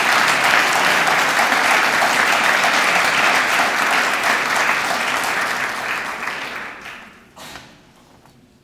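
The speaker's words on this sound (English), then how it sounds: "Let's have another round of applause for all of our graduates." A large audience at a university business graduation ceremony applauds the graduates, a loud, dense wash of clapping that holds steady, then thins and fades out over the last couple of seconds.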